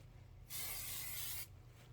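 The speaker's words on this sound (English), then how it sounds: "Spray the wrong side." One steady spritz from a spray bottle misting the wrong side of fabric, a single hiss of about a second, close and clear against a quiet room hum.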